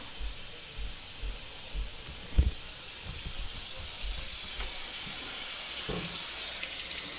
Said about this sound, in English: The water goes through the holes and gets my blueberries nice and clean